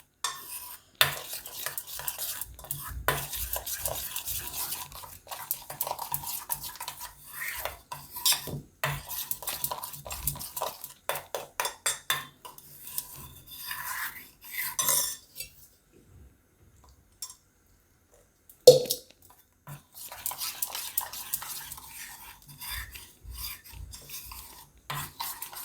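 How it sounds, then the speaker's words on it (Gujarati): A spoon stirring cornflour and cocoa powder into cold milk in a bowl, steady fast scraping and clinking strokes close up, briefly pausing midway before resuming, with almost no talk. "આ રીતે આપણે ઠંડા દૂધમાં જ મિક્સ કરવાનું આને।"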